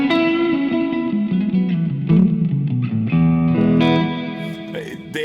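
Electric guitar played through a neural amp simulation on a Mod Dwarf pedal with reverb, ringing chords and notes with a distorted edge and a lingering ambient tail, steady and fairly loud throughout.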